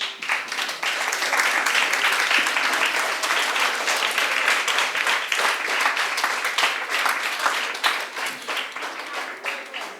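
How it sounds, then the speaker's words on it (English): Students applaud their teachers in a dense, sustained round of clapping from a sizable group that holds steady for about ten seconds. "So students, I want to give your teachers a round of applause."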